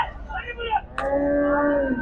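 A cow gives one long, steady moo at a Sunday cattle market in Rahuri, after a stretch of softer background noise and murmur.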